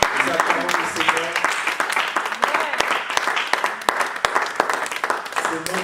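A church congregation applauding during a Christian prayer gathering, dense sustained clapping with cheering voices mixed in, loud and close throughout.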